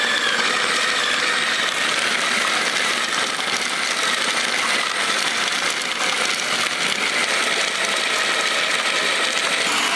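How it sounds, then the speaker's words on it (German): A blender whirs through fresh basil for homemade pesto at an Italian cooking event, a loud, steady, high-pitched motor roar with a gritty chopping texture lasting throughout, with no talking. "Dann starte ich jetzt mit dem Mixer."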